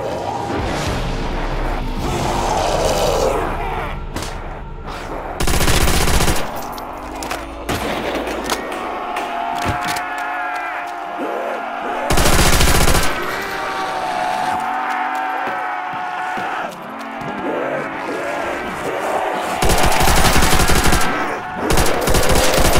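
An MG fires in Call of Duty: World at War custom zombies. Loud, close bursts of automatic fire come in repeated clusters, with sharp, heavy volleys standing out over a busy wash of game sound and whirring effects.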